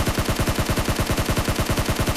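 Rapid, continuous automatic fire from an M416 rifle in the shooter game PUBG Mobile, a loud, dense stream of evenly spaced shots with no talking.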